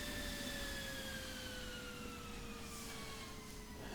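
An F-16 jet engine spools down after the throttle is cut in a flight simulator game, with a steady whine that slowly falls in pitch over a constant rumble, loud and unbroken, with no voices.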